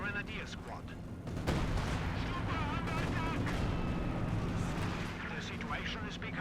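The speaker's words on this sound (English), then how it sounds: "Brumbar is opening fire. Kind of missing. I think he aimed a little too high with his explosive shots." Brummbar assault gun firing explosive shots in Company of Heroes 2, booming artillery blasts amid a busy battlefield of gunfire and explosions, with a voice talking over the action.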